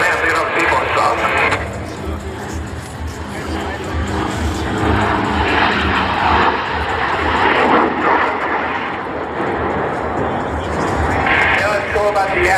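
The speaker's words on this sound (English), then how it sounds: "Jeff Boerboon going to hover the Yak 110 right here at Show Center." A Yak 110 aerobatic aircraft performs at an air show, a loud continuous jet and engine roar swelling and easing across the whole stretch, with a commentator talking over it throughout.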